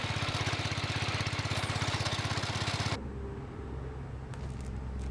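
A John Deere 110 garden tractor engine runs with its mower deck drive engaged, a loud steady rapid chugging that drops abruptly partway through to a quieter, lower hum.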